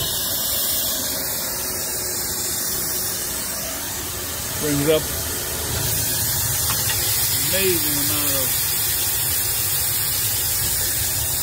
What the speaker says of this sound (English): Steam blower.